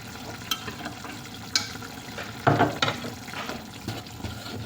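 Liver stir-fried with turmeric in a pan gives a soft sizzle under scattered scrapes and clinks as the pieces are turned, with a louder stirring clatter midway.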